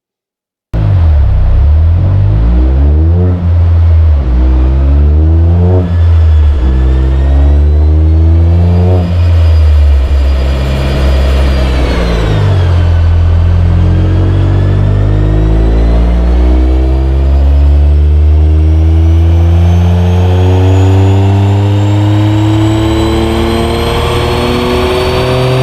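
A Toyota GR Yaris engine on an ECU remap tune revs repeatedly, rising and falling in loud blips before a long sustained climb in pitch, close and alone with no talk.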